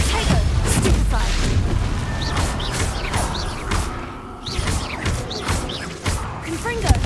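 Explosive spell blasts in Hogwarts Legacy combat, several booming bursts and thuds through a busy battle soundscape with a voice calling out spells.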